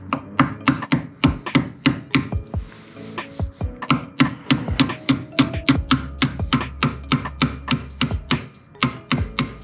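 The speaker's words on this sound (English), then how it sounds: "like to use like a flat hammer as well" Steady series of sharp metallic strikes from a flat hammer driving a pin into an SR20 5-speed transmission, evenly spaced and close, with a brief pause midway before the tapping resumes at the same rhythm.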